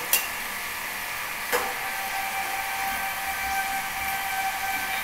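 Eggplant fries in oil on a flat tawa with a continuous soft sizzle, punctuated by two sharp utensil clicks near the start; no speech.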